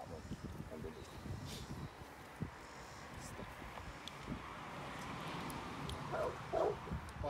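A dog in a training session gives short whimpers and yips, soft and intermittent, mixed with louder brief vocal bursts near the end, while people talk nearby.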